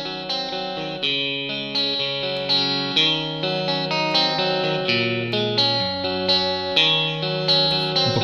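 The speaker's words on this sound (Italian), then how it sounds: "questo qui è un reverbero digitale" Electric guitar processed through digital reverb and effects, playing sustained chords and melodic lines with a wide, shimmering, chorus-like wash; steady and fairly loud throughout, no talking.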